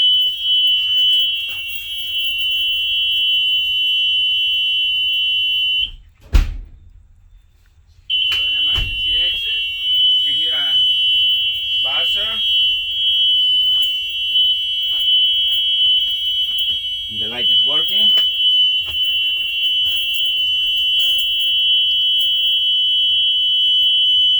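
A school bus door warning buzzer drones loudly and steadily at a high pitch, cutting out briefly, with someone talking intermittently underneath.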